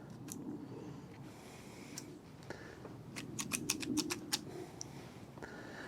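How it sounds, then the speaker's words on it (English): A few sharp snipping clicks of scissors trimming plant roots, clustered in a quick run near the middle, quiet and close against a soft background hiss. "So I'll just trim the roots down by a little bit"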